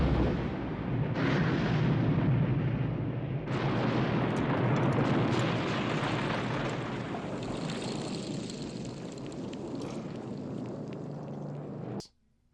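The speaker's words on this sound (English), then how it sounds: "the way how the shark dies when Brody actually just like pulls the grenade on the dead corpse's hand in his mouth" A large explosion from the 1983 film Jaws 3, where the shark is blown apart by a grenade: a loud, sustained roaring blast with rumbling debris that fades before cutting off abruptly.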